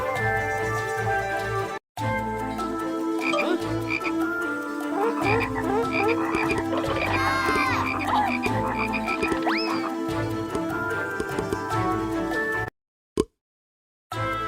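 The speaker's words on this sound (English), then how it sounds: "Frogs were everywhere." Dense chorus of frogs croaking continuously, many overlapping calls at close range, with a brief dropout near the end.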